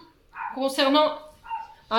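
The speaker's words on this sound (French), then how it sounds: "excusez-moi pour le chien" A dog barks indoors in short, sharp yips and a louder whining bark, heard close behind someone speaking French.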